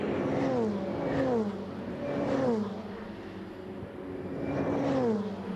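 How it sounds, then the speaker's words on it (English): Several Ferrari 488 race cars sweep past one after another at Imola during a Ferrari Challenge race, engines rising and falling in pitch as each passes close by, with a steady roar between them. "The car sounds absolutely awesome as they go past our camera position."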